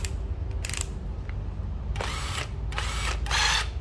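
Japanese cordless drill running in drill mode, several short high-pitched whirring bursts, the longer ones in the second half, close by, over a low room hum.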